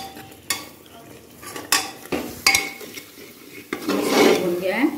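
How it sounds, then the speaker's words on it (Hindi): Vegetables and potatoes being roasted in butter in a pan for matar pulao, with clinking spoon-on-pan stirs and scrapes, then a rising soft sizzle near the end. "फिर इसमें सब्जी आलू बटर डालने हैं, मैं भून के दिखाती हूँ आपको कैसा भुनेगा"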